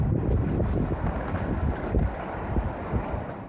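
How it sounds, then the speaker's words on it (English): Gusting wind in the Kennewick area of the Tri-Cities, Columbia Basin, roars and buffets a field microphone steadily, with loud rumbling surges and no voices. "winds gusting across the Tri-Cities and Columbia Basin today"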